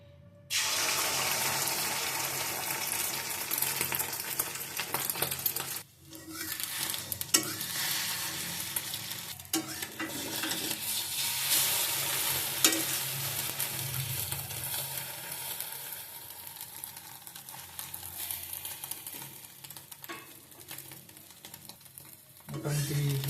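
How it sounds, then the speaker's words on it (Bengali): An egg frying in hot oil in a pan, giving a continuous bright sizzle that holds steady throughout, with a few brief dips and no talking. "ডিমটা ঢেলে দিচ্ছি।"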